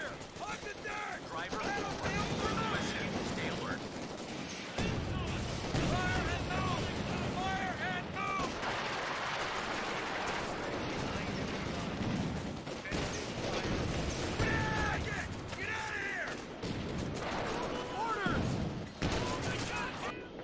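Artillery bombardment in a real-time strategy game: a dense, sustained barrage of booms and crackling blasts over a busy battlefield din, with voices talking over it throughout.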